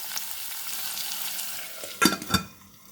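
Okra and capsicum frying in a pan give off a steady, soft sizzle, with a few sharp utensil clinks and scrapes near the end before the sound settles.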